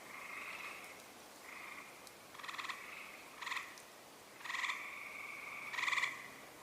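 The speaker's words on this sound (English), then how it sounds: "the frogs are vocalizing" Frogs croaking in repeated bursts of rough, buzzy calls, several overlapping phrases spread across the clip with short gaps between them, moderately loud against a quiet background, with no voices.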